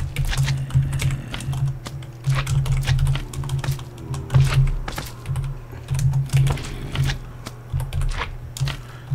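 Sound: typing on a computer keyboard

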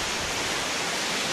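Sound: waterfall

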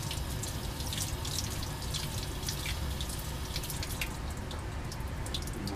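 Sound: rinsing lab glassware under running water

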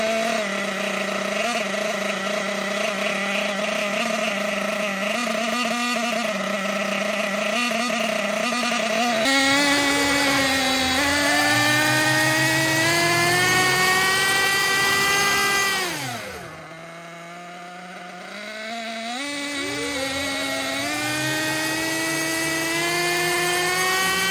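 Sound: Losi nitro RC truggy engine revving near full throttle

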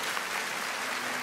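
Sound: audience applause on The Voice Kids

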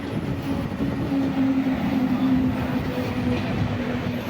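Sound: passenger train running, heard from inside

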